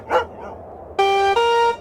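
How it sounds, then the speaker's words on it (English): A dog whining and shivering on a front porch, two short soft whimpers followed by a sustained, tonal whine that steps up in pitch near the end, close and clear. "A dog whined, shivering, on the front porch."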